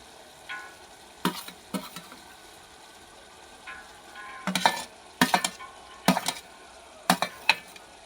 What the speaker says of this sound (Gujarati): હવે થોડુંક આપણે હલાવી લેવું, જે આપણી ડુંગળી કાચી છે એ ઘડીક ચડવા દઈશું।